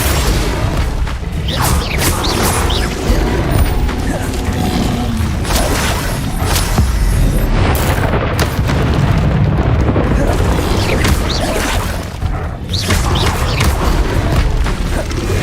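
Fiery Confringo spell blasts from Hogwarts Legacy boom and burst repeatedly amid dense, loud game noise, with overlapping explosions and crackling impacts through the whole stretch.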